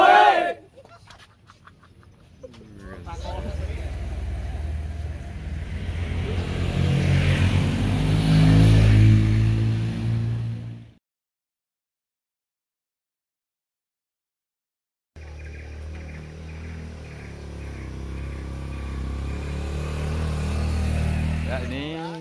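Motorcycles pull into a motorbike transit stop at Air Tiga Rasa Rejenu in Japan village, Indonesia, engines droning and revving under people talking, then cutting out into silence before another engine starts up and runs.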